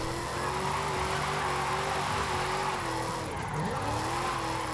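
A car in Forza Horizon 5 drifting sideways on the handbrake, a steady engine drone with a sustained tire squeal that wavers in pitch, loud and continuous throughout.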